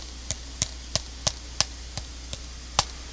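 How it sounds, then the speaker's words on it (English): Thumb tapping on a small hollow tapping drum, eight sharp dry knocks at a steady, slightly uneven pace, close and fairly quiet against a faint low hum. "I have my tapping drum right with me right here. It sounds like this."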